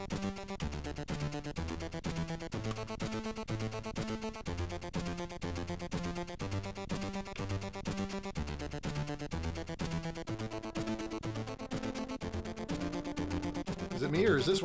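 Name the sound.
Commodore 64 SID chip demo music in stereo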